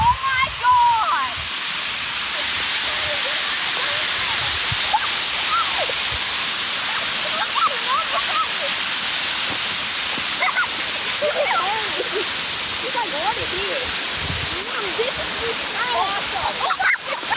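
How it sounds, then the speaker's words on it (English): Lake water washes steadily against a shore where it freezes on contact, a continuous broadband rush and splash with no pauses. "This water freezes every time it touches the lake shore."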